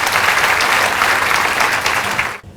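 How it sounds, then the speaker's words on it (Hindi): An audience claps together in a sustained burst of applause at a cinema master class, dense and even, then breaking off abruptly just before the end. "इस पे एक बार ताली जरूर बजनी चाहिए।"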